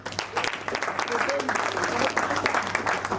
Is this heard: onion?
no